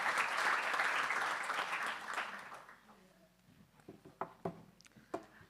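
Applause from the audience at a community dialogue event swells briefly and fades out within a few seconds, followed by scattered quieter knocks and shuffling, with faint voices in the background.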